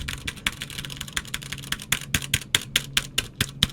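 A clicky mechanical keyboard with blue switches is typed on steadily, each press a sharp, close click in a quick, uneven rhythm, with a low hum underneath and no speech.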